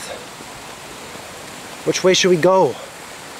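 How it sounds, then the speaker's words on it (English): A small garden stream at Shirotori Garden flows steadily down toward little waterfalls, a constant soft rush of water with a voice briefly talking over it near the end. "The stream is flowing down. Down to the little waterfalls."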